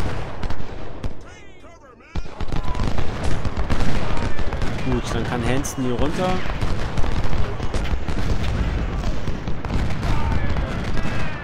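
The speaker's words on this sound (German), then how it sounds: "Jetzt gibt es da unten Artillerieunterstützung." In the Civil War strategy game Ultimate General: Civil War, artillery booms and rifle volleys crackle almost nonstop in a dense battle, briefly quieting before resuming loudly while someone speaks a short line in German.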